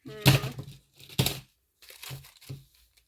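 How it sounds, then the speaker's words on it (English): A plastic baggie holding gold earrings crinkles and rips in close, bright bursts, with two loud crackles followed by softer rustling, and a faint voice hums in between. "Don't want to rip my baggie here."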